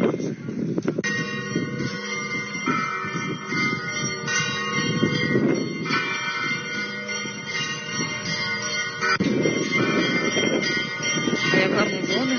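Church bells ring steadily at a church in Lutsk, with overlapping tones filling the whole stretch, heard somewhat distantly beneath outdoor ambience and murmuring voices.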